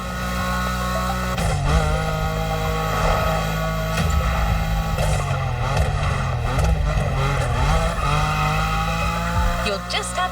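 Cars drifting in The Crew Motorfest racing game, with a steady engine drone and wavering tyre squeal running throughout under continuous narration.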